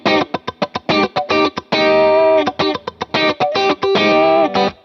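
Distorted electric guitar through a JHS Morning Glory overdrive pedal, modeled in AmpliTube 5, with a crunchy tone, playing choppy rhythmic chords with a few longer sustained ones, loud and up close, no voices.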